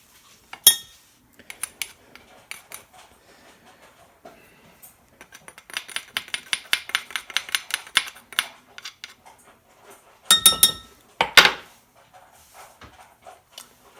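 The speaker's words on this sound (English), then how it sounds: "And then it says stir for 3 minutes." Autumn olive jam stirred in a pot, with a spoon clinking and scraping against the metal in irregular bursts, close and fairly loud, with pauses between strokes.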